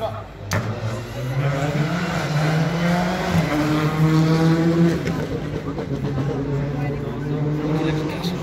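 A Ford Fiesta rally car, number 19, races along a special stage of the 2022 Rallye d'Antibes, its engine note climbing and shifting as it drives past, while a commentator talks over it.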